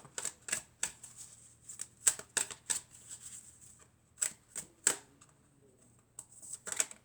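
Tarot cards being drawn and handled, a series of crisp, close snapping and flicking sounds in irregular bursts with quiet pauses between them.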